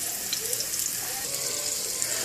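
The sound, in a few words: meat patties frying in a pan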